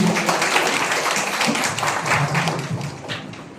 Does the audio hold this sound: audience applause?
yes